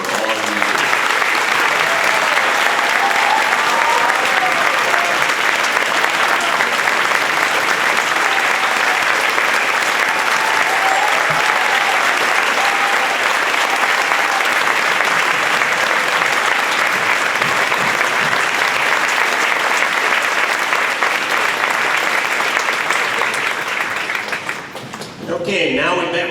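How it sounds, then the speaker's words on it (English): An indoor audience at a high school marching band show applauds, a dense, steady roar of clapping hands that carries on for most of the span before briefly thinning out near the end. "this round of applause is our way of saying thank you to you for all of you"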